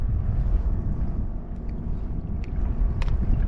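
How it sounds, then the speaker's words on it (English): Strong wind buffets the microphone during a windy day of fishing before a tropical storm, a loud, gusting low roar that swells and dips throughout, with faint splashes of water and brief clicks. "So it's really windy."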